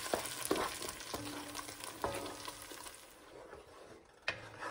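Onion, ginger, garlic and smoked dry shrimp are stirred in a pot for jollof rice: a gentle sizzle runs under several sharp spoon scrapes and knocks against the pot, heard close with no voices.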